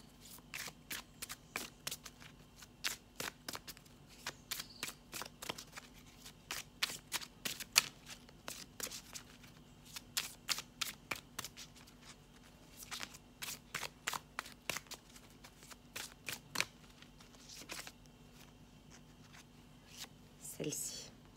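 Oracle cards being shuffled in a quiet room, soft repeated riffling bursts in irregular groups throughout, faint and close, with a low steady hum underneath.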